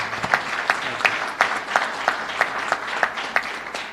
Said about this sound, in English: I think we should applaud him again.